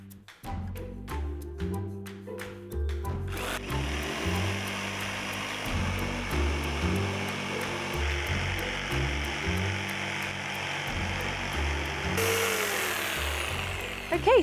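A power tool grinds and whines steadily through pallet wood side pieces, loud and continuous, with a brief sharper burst at the start and rising pitch near the end.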